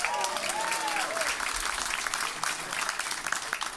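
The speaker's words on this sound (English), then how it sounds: "Can we give Ray a round of applause" A comedy-club audience breaks into steady applause for an audience member named Ray, dense clapping that carries through the whole stretch with a few voices mixed in.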